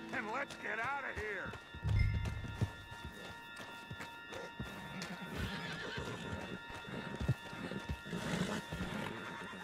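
In the western video game Red Dead Redemption 2, a horse whinnies loudly at the start, then hooves clip-clop steadily over ground amid movement noise, with people talking over much of it.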